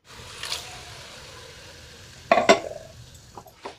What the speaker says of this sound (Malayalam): എല്ലാം കൂടി നല്ലതുപോലെ വഴറ്റി കൊടുക്കാം